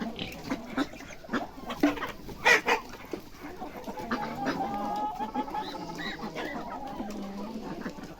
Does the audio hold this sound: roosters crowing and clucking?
yes